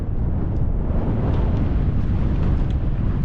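Strong wind on an exposed Yorkshire Dales hillside, blowing at a campsite as a steady, loud, roaring rush that buffets close to the microphone throughout, with no voices.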